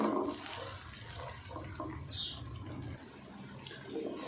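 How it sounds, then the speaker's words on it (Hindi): Water is poured into a pan of cooking carrots and peas for fried rice, giving a steady splashing, running-water rush that continues for a few seconds with no talking. "थोड़ा सा हम इनमें पानी डाल देते हैं, क्योंकि हमने ये मटर बॉयल नहीं किए, गाजर और मटर।"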